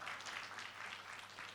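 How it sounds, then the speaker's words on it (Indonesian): A congregation applauds during a church sermon, giving a soft, steady patter of many clapping hands that sounds distant and fairly faint, with no voices over it. "Yang percaya berikan tepuk tangan bagi Allah kita."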